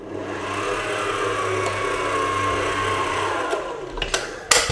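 An electric hand mixer beats cookie dough after an egg is added, a steady motor whir running continuously with a few brief clatters near the end.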